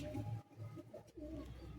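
Pigeons in a loft give soft, low coos in a few quick repeated phrases, quiet and close, with no one talking.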